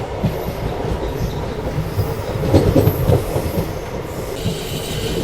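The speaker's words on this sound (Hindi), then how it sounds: "फिलहाल अपनी ट्रेन आणंद रेलवे स्टेशन पहुंच रही है" Vande Bharat express rolling into Anand railway station, with a steady rumble of wheels on track and soft squeals and clacks rising briefly midway, no voices over the continuous running noise.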